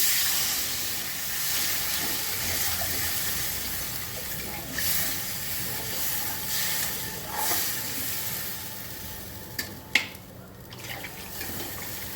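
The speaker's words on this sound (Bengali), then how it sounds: "এবার আমি জল দিয়ে দিচ্ছি" Water poured into hot fried spice paste for a dhokar dalna curry sends up a loud steaming hiss that fades into softer bubbling and simmering, with a couple of sharp clinks near the end and no talking.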